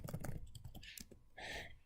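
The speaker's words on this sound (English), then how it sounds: "so when you're typing, press those like this." Fingers typing on a computer keyboard, a short quiet run of soft clicking key presses with a couple of brighter clacks, close and alone.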